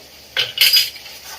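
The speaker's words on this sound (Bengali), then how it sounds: "টক দই দেওয়ার পরে কিন্তু এরকম একটু নাড়িয়ে নিতে হবে তা নাহলে কিন্তু ছানা কেটে যাবে" Spoon stirring spiced vegetarian jackfruit curry in a pan after whisked sour yogurt is added, a couple of close metallic scrapes and clinks over about half a second, with no talking.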